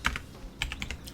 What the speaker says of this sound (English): Typing the password is very slow.